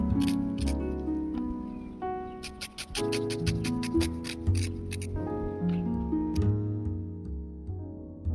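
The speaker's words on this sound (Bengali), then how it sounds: "এবারে পেঁয়াজ কুচিয়ে নেব।" An onion is chopped on a board with a knife, a quick run of even taps rising in the middle of the stretch over steady background music.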